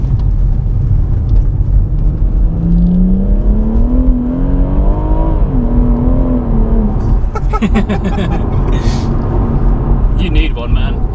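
A BMW M140i accelerates at half throttle, its engine note rising smoothly and loudly from inside the cabin, then a brief gear change and further whirring buildup.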